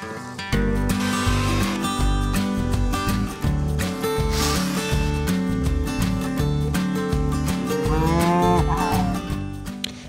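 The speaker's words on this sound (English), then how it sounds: "These are some of our cows" Brown and black cows mooing in long, loud, overlapping calls that carry on continuously, several animals lowing close by.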